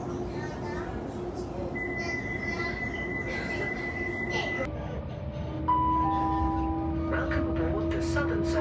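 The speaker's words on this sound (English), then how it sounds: "This is a Windrush line train to Clapham Junction." A Windrush line train runs along the rails toward Clapham Junction, with a continuous rumble and drawn-out wheel squeals that shift pitch partway through. The sound is heard from inside the carriage, close and fairly loud, with no talk.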